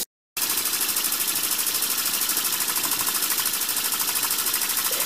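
A homemade steam engine runs on live steam from a homemade boiler, chuffing in a fast, even, mechanical rhythm that stays steady and loud throughout after a brief silent start.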